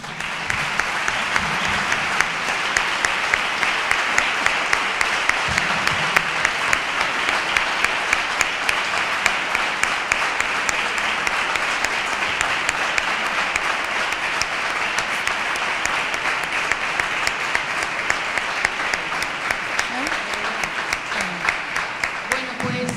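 Sustained applause from an audience at a book presentation in Nerva, dense steady clapping with no letup for over twenty seconds, fairly close and loud, with faint voices occasionally beneath.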